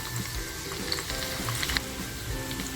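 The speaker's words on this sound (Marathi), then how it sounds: "तेल छान तापलं ना की लसूण टाकायची आहे" Garlic dropped into hot oil for a cluster bean stir-fry, crackling and sizzling loudly and continuously up close, with small popping bursts and no voices.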